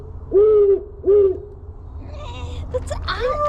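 An owl's hooting plays from a recording at night, two clear, evenly spaced hoots up front, followed by fainter bird calls and chatter over low background hum.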